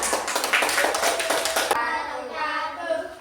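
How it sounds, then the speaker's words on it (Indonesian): A class of students claps for a group presentation. Sharp, fairly close hand claps ring out for nearly two seconds, then fade into a softer hum of voices and chatter. "Beri tepuk tangan yang meriah"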